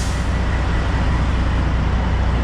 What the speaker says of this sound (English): we got a Northeast Nursery truck pulling in right next to us